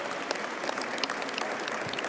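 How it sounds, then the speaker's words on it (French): Audience applause for three panel speakers at the close of a conference session, a steady, fairly faint patter of many hands with no voices over it. "vous pouvez les applaudir"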